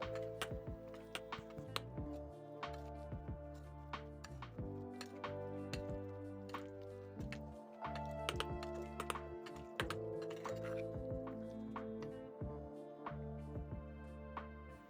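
Quiet, steady tapping and clinking of a utensil stirring pumpkin dessert batter with eggs against a bowl, repeated quickly over soft background music.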